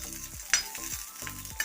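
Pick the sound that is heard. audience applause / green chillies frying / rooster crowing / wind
green chillies frying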